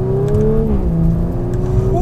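A 2019 Audi RS5 Sportback engine accelerating hard in manual mode, a loud, close, continuous rising drone whose pitch climbs, dips briefly at a gear change and rises again, with no talking over it.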